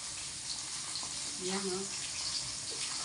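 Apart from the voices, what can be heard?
water being added for soaking and washing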